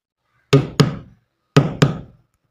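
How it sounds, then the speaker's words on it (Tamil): Two pairs of sharp knocks on a door, each double rap close and loud with a brief ringing decay, separated by about a second of silence. "கதவு தட்டுற சத்தம் கேக்குதாடா?"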